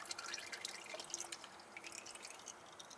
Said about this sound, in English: you can hear it, it's going right into the pan with the funnel